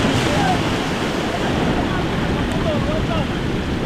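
Ocean waves surge and wash in bad weather around a fishing boat at sea, a steady loud roar of surf mixed with wind buffeting the microphone, continuous with no breaks.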